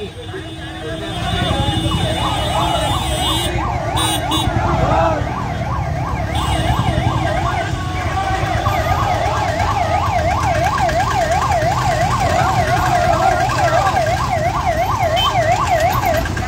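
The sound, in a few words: ambulance siren passing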